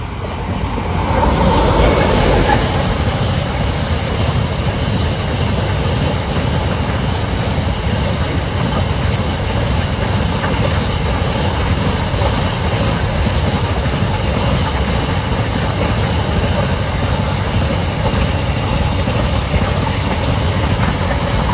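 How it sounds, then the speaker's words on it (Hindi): A train runs along the railway tracks close by, a loud steady rumble with clattering wheels that holds for the whole stretch, with no talk over it. "तो ट्रेन जो है वो उस पर आ रही है।"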